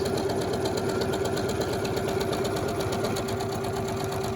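A sewing machine stitches an automatic one-step buttonhole, running continuously with a fast, even mechanical whir and rapid needle ticking, loud and close without pause.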